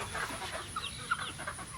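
Roosters clucking softly inside a chicken coop, a few short, faint clucks and chirps scattered over a quiet background with no crowing.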